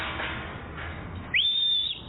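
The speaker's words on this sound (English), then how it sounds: "that wasn't me that whistled, by the way." A person whistles a single clear, rising note that holds steady for about half a second, loud and close, after a stretch of quiet background hiss.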